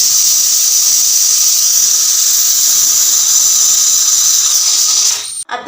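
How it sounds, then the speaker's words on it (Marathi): An oiled eggplant roasts directly on a gas stove flame, giving a loud, steady hiss that runs unbroken before cutting off abruptly at the end. "गॅस चालू करून गॅसवर ठेवून देते तर असं तेल लावून वांगे भाजलं ना तर लवकर वांग पण भाजतं"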